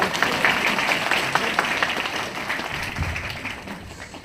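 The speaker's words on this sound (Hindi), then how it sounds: "लेकिन तालियां बजा दो।" An audience applauds steadily throughout, a dense, loud wash of clapping that slowly tapers toward the end.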